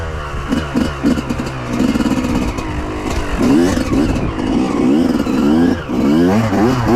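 Yamaha 125YZ two-stroke dirt bike engine revving close by in repeated rising and falling bursts, loud with a buzzy tone across the whole stretch and no talk.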